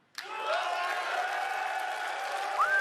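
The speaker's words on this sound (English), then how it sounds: "I'm going to let them cheer at that one." Audience at the Xbox X019 fan event breaking into loud, sustained applause and cheering after a sudden start, a dense crowd roar that carries on to the end.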